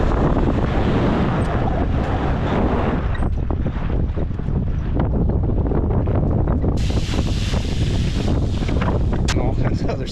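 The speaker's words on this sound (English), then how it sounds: "It's so windy." Strong wind buffets the microphone in a loud, continuous roar with gusty rumbling throughout.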